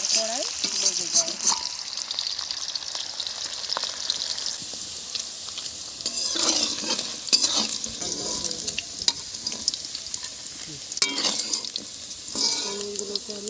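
Paneer cubes frying in oil in a kadai for a vegetarian paneer dish, a steady close sizzle with occasional stirring scrapes and bursts, running continuously without talk.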